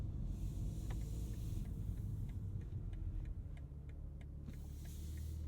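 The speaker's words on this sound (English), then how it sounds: "Turn signal sound" Turn signal of a 2023 BMW M3 Competition xDrive ticks in a steady, soft rhythm inside the cabin over a low engine and road rumble.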